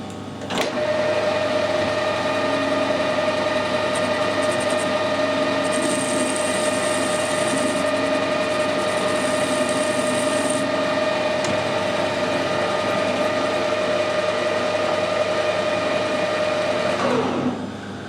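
A tool post grinder on a lathe hums steadily for about seventeen seconds, grinding down the hardened heads of cap head screws. It gives a loud, even whine close by with a constant pitch, then winds down at the end, with no talking.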